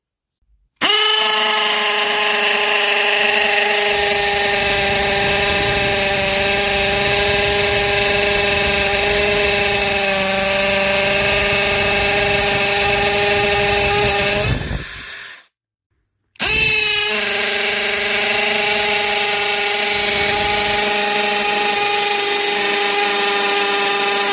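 A DeWalt DCD709 Atomic subcompact cordless drill bores into concrete with a loud, steady whining drone. It runs for about fourteen seconds, stops briefly, then starts again and keeps going.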